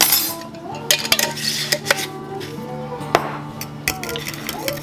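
A spoon or whisk scrapes and clinks repeatedly against a bowl while zucchini flour batter is beaten, quick irregular metallic taps and scrapes at close range, with no talking.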